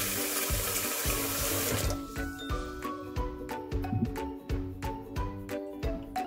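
Water from a tap pours into a rice cooker pot, a splashing gush for the first two seconds that gives way to tinkling drips and clinks as the flow stops, close up.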